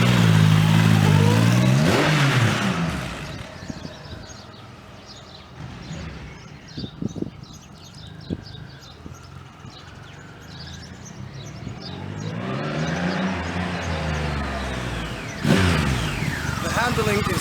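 A 2015 Triumph Rocket 3 motorcycle pulls away, its engine revving loud and close at the start, fading into the distance, then swelling again as it rides back near the end.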